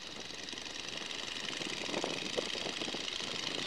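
A steady, moderately loud engine drone from a 1942 Boeing Stearman biplane in flight runs continuously with a slight rise partway through, no talking over it.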